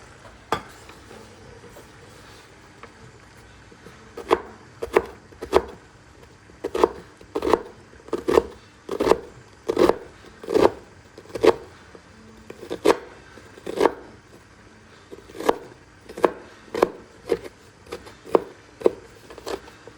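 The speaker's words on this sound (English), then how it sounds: "we're gonna go ahead and chop our onion super fine" An onion is chopped finely on a wooden board: a long run of sharp, regular knife thuds, close and fairly loud, speeding into a steady rhythm with brief pauses, with no talking over it.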